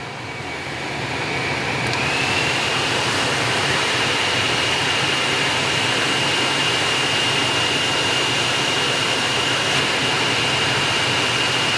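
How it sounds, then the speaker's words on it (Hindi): A car ventilated seat cushion fan runs at speed 3, giving a steady, loud whooshing drone of moving air with a faint high whine, rising at the start then holding constant throughout. "तो इस तरह से नॉइज़ हमें इस वेंटिलेटेड के सीट के फ़ैन की मिलती है"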